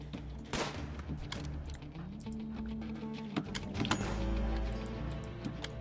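Rimworld gunfire crackles in short, sharp bursts and scattered single shots over a low game hum, close and fairly quiet, with irregular spacing.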